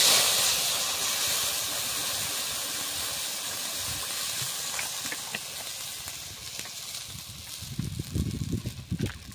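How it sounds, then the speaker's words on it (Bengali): Water poured into a wok holding a little leftover hot oil from frying peanuts and curry leaves, a loud steam hiss and sizzle that slowly fades, with light scraping and knocks near the end. "ওর মধ্যে দিয়ে দিচ্ছি পরিমাণ মতো জল।"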